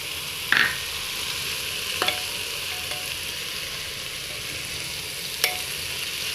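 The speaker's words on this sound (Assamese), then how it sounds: "ভালকৈ মই লৰাই ল'ম।" Rice with raisins and cashews is stirred in a pan over a soft, steady sizzle, with a few sharp scraping clicks of the spoon spaced out across the stretch.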